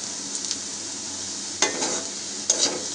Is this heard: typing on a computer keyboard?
no